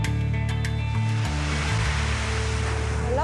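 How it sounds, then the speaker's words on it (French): Sea waves crash steadily on a Camargue shore at the front line of coastal erosion, a loud continuous roar of surf with low rumbling swells and churning wash, heavy seas on a rough day, with no voices. "là où les vagues attaquent la propriété"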